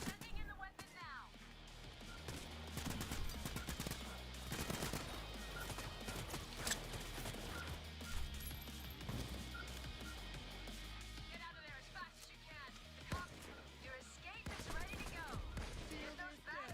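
Gunfire in the heist shooter Payday 3, with dense bursts of shots crackling through a continuous loud game mix, accompanied by other game effects.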